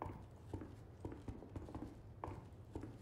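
Footsteps in Resident Evil 4 Separate Ways land in a quick, steady rhythm, soft and fairly faint, each step a muffled thud over a low background hum.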